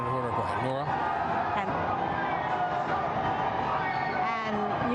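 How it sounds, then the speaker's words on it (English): Crowd cheering outside a federal courthouse as Donald Trump's motorcade turns a nearby corner, a loud, continuous roar of voices with shouts rising and falling, close by and filling the whole stretch. "you can hear the loud cheers of the crowd as Donald Trump's motorcade is just turning the corner very close to where we are"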